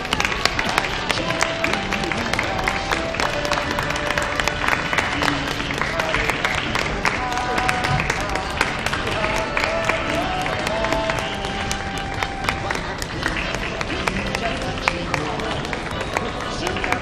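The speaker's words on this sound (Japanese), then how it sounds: "皆様大きな拍手引き続きお願いいたします。" Indoor audience applause, dense and continuous, greets new Tokushima Indigo Socks baseball players as they enter, with crowd murmur and background music under the clapping.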